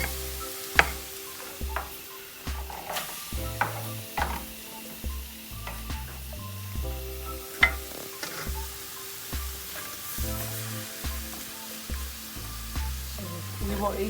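Raw fresh prawns and oysters fry in a pan with a steady sizzle, under repeated clinks and scrapes of stirring at close range and a low rhythmic thudding in the background.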